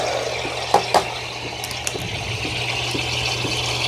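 A steady low hiss and gurgle of a Ninja Luxe Cafe ES601 espresso machine's steam wand frothing milk in a jug, with a couple of small clicks and bubbling pops near the start.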